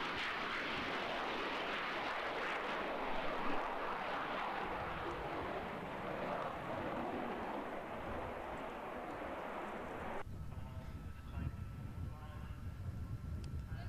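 Aircraft at the 1985 Leicester Airshow: a sustained, fairly faint broadband engine roar that cuts off abruptly near the end, giving way to quieter, thinner background sound.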